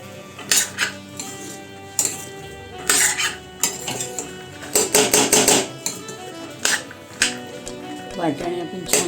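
Overnight-soaked white peas being sautéed and stirred in a pan, with a spoon scraping and clinking against the metal in irregular bursts over a low background hum.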